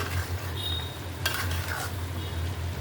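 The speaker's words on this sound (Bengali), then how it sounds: "তরকারিটা লাড়া দিয়ে দেই।" A Bengali curry with greens and hilsa fish head being stirred in a pot: a constant low sizzle with one short scraping burst of the spoon in the middle.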